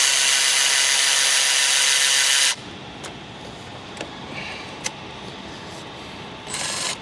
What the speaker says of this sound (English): we're gonna loosen the hose clamp here, up at the intake elbow